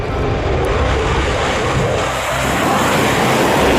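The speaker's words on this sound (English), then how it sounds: "Fighter jets took off." Fighter jets take off over eastern Poland during a night alert, a loud, continuous broadband engine roar that stays steady throughout the moment.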